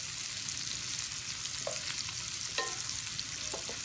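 Seasoned shrimp sizzle and fry in a pan, a steady crackling hiss that carries through the whole moment, with a few faint clicks and scrapes from stirring.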